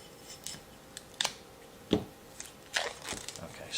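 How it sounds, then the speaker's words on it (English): Leatherman multi-tool snipping plastic packaging off a chisel and knife sharpening kit, a few sharp isolated cuts and crinkles close by, with one louder snap near the middle and a cluster of rustling cuts toward the end. "Let me get my little Leatherman out to make getting this plastic off a lot easier."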